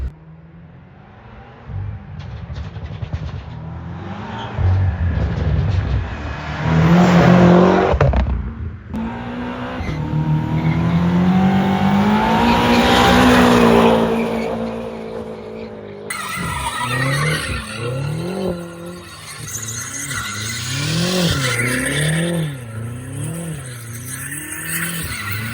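A BMW M5 with over 700 horsepower accelerates hard, its engine revving loud and close while tires squeal and skid in long, wavering screeches across the run.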